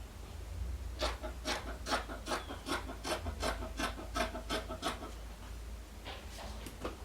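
Sewing scissors cut fabric in a quick, close series of crisp snips, about a dozen in steady rhythm, then a short pause before a few more cuts.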